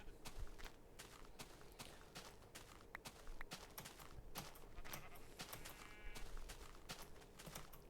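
Sheep bleat in a video game while someone gathers wool, with frequent footstep-like clicks and busy game noise throughout, and the animal calls come through faintly amid the clutter.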